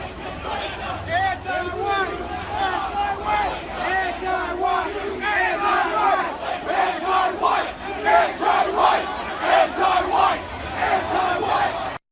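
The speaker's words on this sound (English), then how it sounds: "listen to what these demonstrators are chanting" Crowd of demonstrators chanting and shouting in loud, rhythmic bursts, many voices massed together at a street protest, steady and dense throughout with cheering swells.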